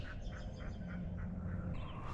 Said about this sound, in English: What is that? Oh, a couple ducks.